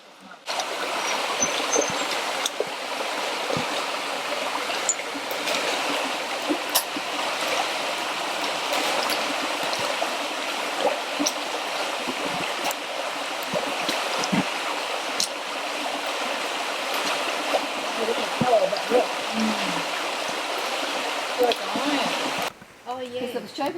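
Creek water rushes steadily at a creek crossing on a bush walking track in South East Queensland, Australia, a continuous broadband flowing hiss, close and loud throughout, cutting off near the end.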